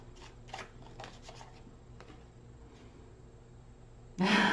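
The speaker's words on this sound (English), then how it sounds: "Off the top of the deck, one more shuffle." Tarot cards are shuffled by hand in soft, close riffles and rustles over a quiet background, ending in a louder burst of cards sliding together.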